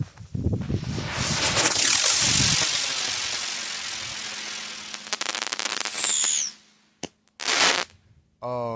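A buzzard bomb firework launches with a rushing whoosh into a long crackling burst, a brief rising whistle follows, then a second crackle set and a few sharp pops, all outdoors at moderate distance.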